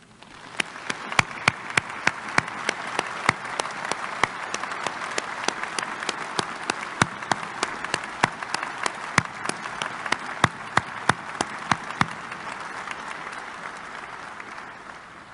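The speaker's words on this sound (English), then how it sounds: "I'd like everybody that's standing to give a round of applause to this family" A room of mourners at a memorial for Cleveland officer James Skernivits gives his family a round of applause, with dense continuous clapping and sharp individual claps standing out for about twelve seconds before fading.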